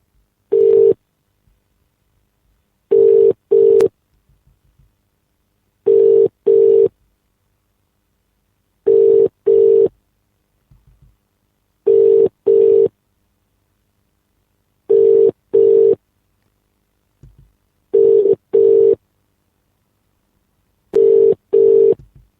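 A telephone line tone while a phone-in number is dialed, sounding as evenly spaced pairs of short beeps that repeat about every three seconds, clear and steady against silence.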